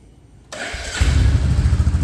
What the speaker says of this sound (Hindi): ये आपको आइडल स्पीड में है।